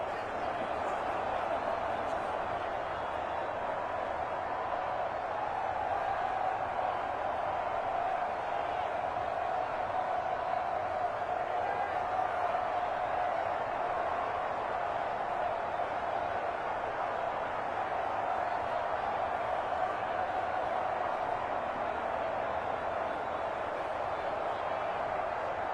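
A distant video game stadium crowd in a Madden 25 match murmurs in a sustained, even roar with no sharp cheers, a steady low wash of massed voices across the whole stretch.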